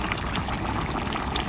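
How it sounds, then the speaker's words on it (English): Potatoes bubbling in a wok-shaped pan on a camp stove, a brief close burst of dense, busy bubbling and popping that stays steady and loud throughout. "Boy, this is really bubbling."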